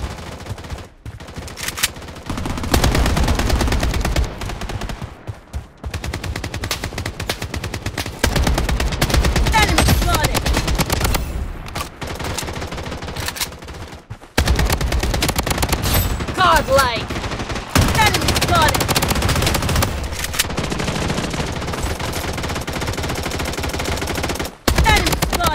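Dense, loud bursts of automatic gunfire in a Blood Strike shooter match, long continuous volleys broken by brief pauses, filling the whole stretch with near, rattling shots.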